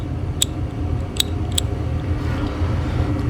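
Three quick, sharp clicks from a Koken Zeal ratchet as it is turned, sounding over a steady background hiss.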